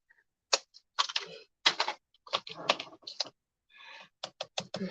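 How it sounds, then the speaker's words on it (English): Scissors snip through paper for crafting in a series of short, crisp cuts, some in quick runs and others with pauses between, close and clear with no speech. "now I will take scissors."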